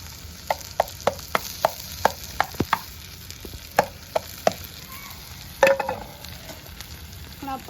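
Onions frying in oil in a pan on a chulha stove sizzle softly beneath a series of sharp spoon taps and scrapes as they are stirred, with no talking.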